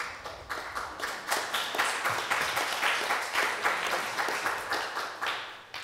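Sustained, steady applause from a conference audience fills a hall, dense clapping at moderate distance with a fairly even rhythm and no voices over it.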